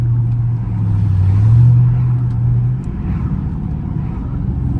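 Dodge Charger Scat Pack driving on a street, heard from inside with a steady low engine drone that swells briefly into a louder rumble midway, then settles back.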